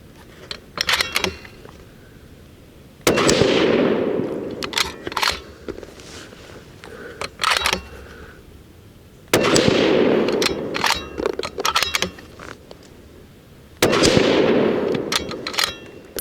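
A Bergara Premier rifle in .308 Winchester fires three sharp, loud shots several seconds apart, each crack followed by a rolling echo tail, with faint clicks of the action between shots.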